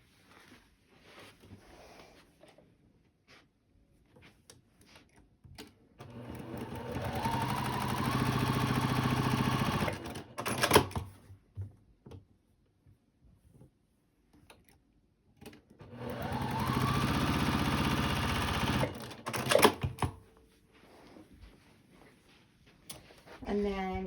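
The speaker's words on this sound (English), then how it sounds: "we're going to sew a straight line here" A sewing machine runs a straight seam through fabric pieces in two steady bursts of several seconds each, a buzzing mechanical whir separated by quiet pauses and a person talking.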